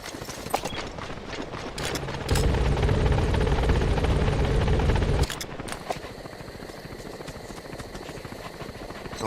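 The Pequod helicopter in Metal Gear Solid V approaches a landing zone with a steady rotor drone that swells louder for a few seconds, then falls back, with faint clopping hooves alongside.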